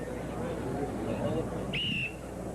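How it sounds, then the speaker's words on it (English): A referee's whistle starts an event at the 1978 World's Strongest Man competition, a single short, sharp blast cutting through steady crowd noise and announcer commentary. "will blow the whistle to start them"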